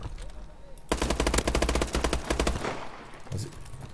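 Rapid automatic Uzi fire in Call of Duty: Advanced Warfare, a loud sustained burst of closely spaced shots lasting under two seconds, followed by a fading tail and a faint thump.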